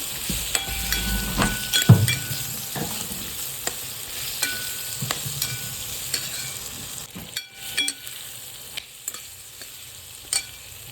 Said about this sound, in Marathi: मला पाहिजे तेवढा वाटाणा बटाणा मिक्स करा. मस्तपैकी याला मिक्स करते.